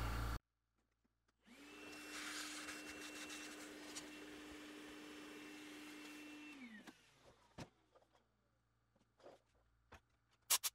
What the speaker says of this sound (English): Clean the rest of this dust with a little bit of air.